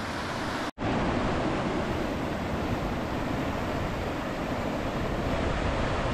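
Whitewater breaks in a tidal rapid at Maces Bay, New Brunswick, running as class III+ water at high tide, a dense continuous roar heard up close with a brief dropout near the start.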